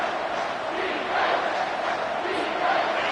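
Stadium crowd at a football game roaring loudly and continuously as one broad, dense wall of cheering voices.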